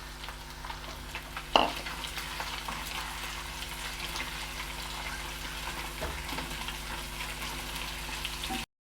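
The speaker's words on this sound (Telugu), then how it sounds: "ఉల్లిపాయ బ్రౌన్ కలర్లోకి వచ్చింది కాబట్టి అల్లం వెల్లుల్లి పేస్ట్ వేసుకుంటున్నాం. అదేవిధంగా జీడిపప్పు వేసుకుంటున్నాం." Ginger-garlic paste and cashews fry with browned onions for tomato rice, giving a steady sizzle with light stirring scrapes and one sharp clatter early on, with no talking.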